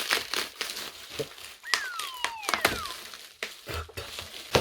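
Plastic film crinkling and crackling while a GoPro Hero8 is unboxed, with close, irregular rustles and brief sharp crackles running through the clip and no speech.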